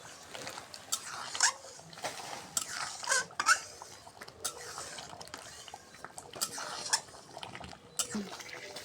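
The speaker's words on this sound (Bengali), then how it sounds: "বন্ধুরা এরকম করে লাড়তেই থাকা লাগবে, না লাড়লে কচুমুখি আলু তলে লাগে যাবে" A village-style taro and potato curry being stirred in a pot as its liquid cooks down, with frequent metallic scrapes and clanks of the spoon against the pot, close and irregular, with no speech.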